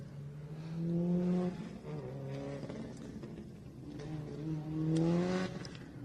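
Rally cars at a stage rally, a turbocharged Subaru WRX and a naturally aspirated rear-wheel-drive BRZ, engines droning and rising in pitch as they pass at moderate distance, steady and unbroken.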